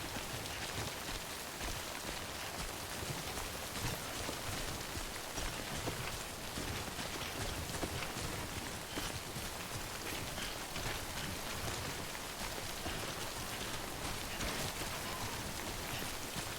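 Steady, dense rainfall of the timefall weather in the video game Death Stranding, a continuous close hiss of drops on surfaces with no break and no voices.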